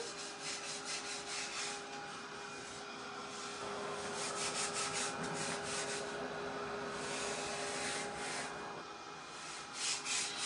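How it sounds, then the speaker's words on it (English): Sandpaper lightly rubbing over an 18-inch wooden door round makes a continuous close scratchy hiss, swelling and easing in steady back-and-forth strokes for about ten seconds. "What I'm going to do is probably sand this lightly."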